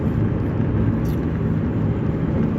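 Steady low rumble and road roar inside a car cabin while driving, a constant loud broadband hum with no distinct events and no voices.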